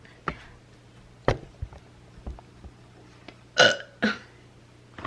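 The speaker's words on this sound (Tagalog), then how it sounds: "Kanina pa ako burp ng burp." A person suffering stomach pain lets out two loud, close burps in quick succession, preceded by a few softer clicks and thumps in an otherwise quiet room.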